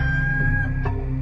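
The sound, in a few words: rooster crowing, sound effect in audio drama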